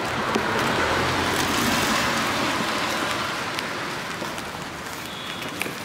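Steady rain falls on a Paris street, a dense, even hiss of drops on pavement with the low rumble of passing traffic mixed in, holding at a constant level throughout with no talking.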